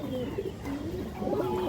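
A male pigeon with a boot-shaped beak coos in short, wavering low calls, close and fairly clear, with no talking.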